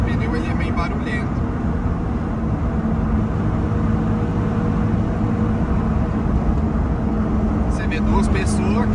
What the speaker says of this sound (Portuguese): Mas o barulho do pneu, na verdade, que esse pneu ele é meio barulhento.